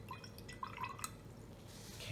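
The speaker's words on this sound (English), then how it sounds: "So I need to rinse this out." Soft drips and small splashes as a paintbrush is rinsed in a water container while painting with gouache, a few faint close clinks against glass over quiet background.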